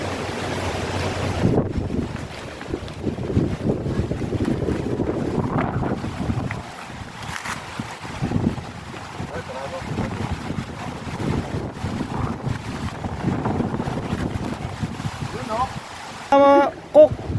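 Strong wind buffets a small fishing boat on open water, roaring into the microphone in a rough, continuous gust with waves beneath, while people talk over it and a brief clatter comes near the end.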